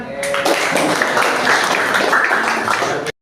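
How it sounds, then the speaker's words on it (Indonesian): A school class in a classroom claps together, a dense burst of applause that starts quickly, holds steady and loud, then cuts off abruptly. "Sudah, kasih tepuk tangan."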